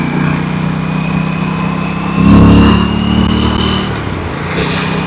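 An Aprilia Tuono 457 motorcycle engine accelerates in a loud, steady drone that swells and rises in pitch midway, then settles back to a constant hum, heard alone with no talking.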